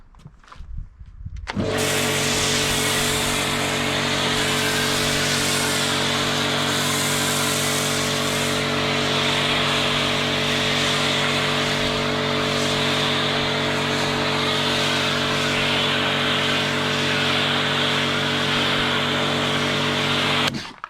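A pressure washer runs steadily and loud at close range, its motor humming with a constant tonal drone under a broad hiss of spray as thick snow foam is rinsed from a damp car; no talking.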